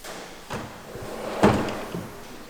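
A kitchen trash rollout drawer with smooth-gliding Heirloom hardware is pushed and pulled. It makes a short sliding rush between a couple of soft wooden knocks. The sound is close and moderately loud, with no talk.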